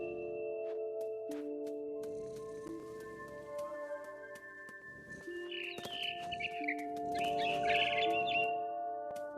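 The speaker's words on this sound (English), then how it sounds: "All I cared about was eating that mama bird." A mother bird in the video game What Remains of Edith Finch gives a few high chirping calls near the end, over a soft, sustained musical drone.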